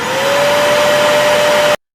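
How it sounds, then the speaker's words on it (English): A shop vac runs loud and close while cleaning the trunk mat of a Tesla Model Y, a steady whining roar that cuts off abruptly. "you can just give it a quick shop vac"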